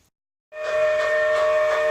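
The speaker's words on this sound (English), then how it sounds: "here comes our train" A train horn or whistle sounds a loud, sustained tone that starts suddenly and holds steady as the train approaches, with no talking.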